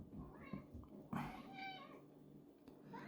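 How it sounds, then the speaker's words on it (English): A cat meows several times, faint and somewhat distant, in a quiet indoor room with low background noise. "Yes, I can hear the cat."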